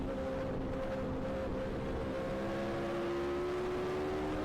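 A forty-year-old 1980s/90s Formula 1 engine howls steadily on a lap of Spa, its tone climbing gradually under heavy wind rush from an onboard camera.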